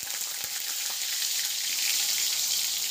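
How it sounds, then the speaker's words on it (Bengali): Potatoes frying in white cooking oil, a steady close hiss and crackle that holds evenly throughout with no talking over it. "আলুগুলো আমি ভেজে নেব।"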